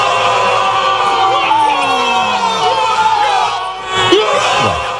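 Crowd of neighbours shouting and cheering a goal during a Copa América football match, loud and continuous, with a rising whistle-like tone and a burst of yelling near the end.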